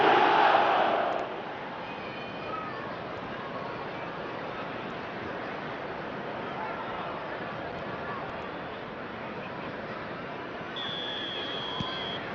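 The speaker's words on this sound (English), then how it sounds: "the crowd level has gone up a notch or 10" Stadium crowd at a Manchester United match roaring after a goal, a dense, loud, sustained wall of noise that surges at the start and then holds steady, with a commentator talking over it.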